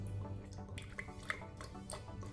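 Three Crabs fish sauce is poured into a glass, giving a faint, soft liquid trickle with a few small drips. It is quiet, close and continuous, with no one speaking.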